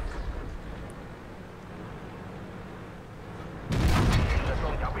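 A T-34-2 tank in a video game fires its cannon at close range on a Pershing, a single loud blast and rumbling impact near the end after a steady engine drone, with someone talking over it.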